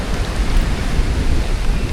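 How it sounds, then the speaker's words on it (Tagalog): Heavy rain pours down near a hut on a Philippine shore, a dense, steady, loud hiss of drops with no breaks and no voices. "Lumakas bigla yung patak ng ulan eh."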